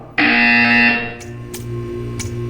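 A loud, steady electronic buzzer sounds for about a second inside the Portal 2 video game, then gives way to a low hum and a few short clicks.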